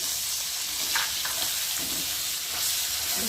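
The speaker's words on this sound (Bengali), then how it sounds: "ভালো করে মশলাটা কষিয়ে নেব" Spice paste of ginger, cumin, tomato, turmeric and chili sautéed with fried potatoes for dalia khichdi, a steady close sizzle broken by a few scraping stirs, no talking.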